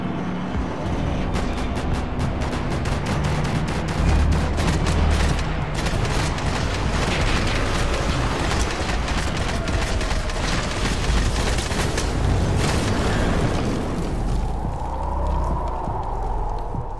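Gunfire in the Max Payne 3 video game: dense, rapid bursts of shots crackle for several seconds over a loud, continuous background of action-game noise, then thin out toward the end.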